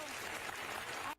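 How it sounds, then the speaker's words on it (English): Audience applauding, a dense sustained burst of clapping that fills the clip evenly and then cuts off abruptly at the end. "people are applauding"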